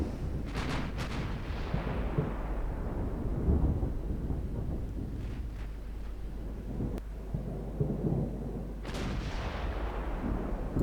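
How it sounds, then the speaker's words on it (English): Naval guns from warships boom in Ultimate Admiral: Dreadnoughts, several deep distant blasts rolling out like thunder at irregular intervals over a low continuous rumble, with no voices. "Sail around and pump some shots into the formation."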